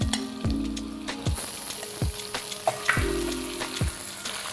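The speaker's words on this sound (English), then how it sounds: "I'm going to saute the meat for 2 to 3 minutes." Mutton browns in a pan with golden fried onions, giving a steady close sizzle broken by several rhythmic scraping stirs and a light clink of utensil on metal.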